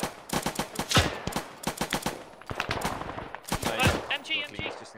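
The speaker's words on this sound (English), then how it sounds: "It's just open fire, Montag." Dense gunfire from a World War II-style military video game, with rapid machine-gun bursts and sharp single shots packed close together. It stays loud and busy throughout, with faint voices mixed in.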